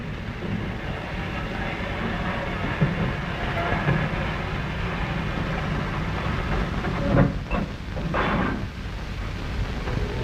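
Norfolk and Western freight cars rolling over and down a classification hump yard, a steady broad rumble and rattle of rail cars throughout, with a couple of brief louder clanks near the end.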